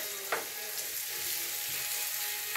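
Stuffed bell peppers searing in a hot pan give a steady, bright sizzle throughout, with a faint clink near the start and no voices.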